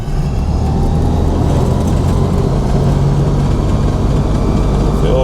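A car with a newly fitted motor climbing a hill in second gear, then shifted up to third: a loud, steady engine drone close by, filling the whole stretch with a low rumble and no break.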